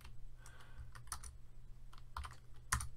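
Someone types code on a computer keyboard, a quiet, close-up run of irregular key clicks with a few sharper taps and short pauses between bursts.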